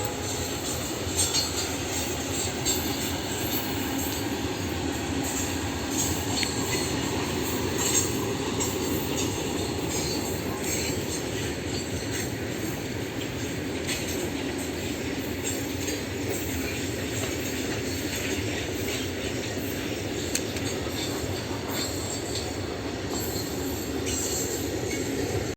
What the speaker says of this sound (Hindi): ट्रेन जाती है